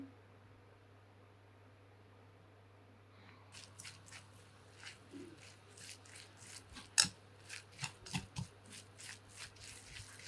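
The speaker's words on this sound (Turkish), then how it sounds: "Öncelikle şöyle güzelce karıştırıyorum." A spoon stirs zucchini and potato fritter batter in a bowl, beginning after a quiet stretch as a series of soft, wet, squelching scrapes and taps that grow louder and more regular toward the end.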